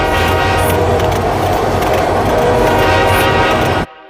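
A subway train rides along steadily as a cartoon sound effect, with loud rumble, rhythmic clickety-clack and a horn-like tone, then cuts off abruptly at the end.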